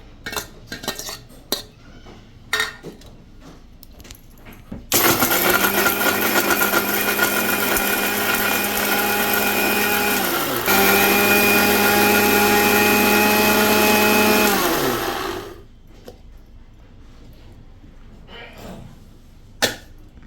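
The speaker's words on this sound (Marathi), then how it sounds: "मिक्सरमध्ये ग्राइंड करून घेऊया" A mixer grinder roars loudly for about ten seconds, pitch dipping midway as whole spices grind, with clinks and clatter before and after.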